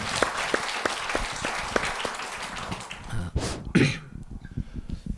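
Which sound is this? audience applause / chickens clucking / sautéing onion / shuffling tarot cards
audience applause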